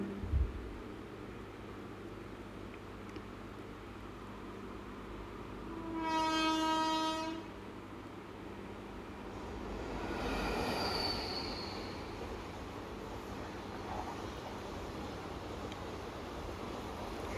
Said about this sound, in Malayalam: ട്രെയിൻ വരുന്നുണ്ട് കേട്ടോ അവിടുന്ന് ശബ്ദം കേൾക്കാം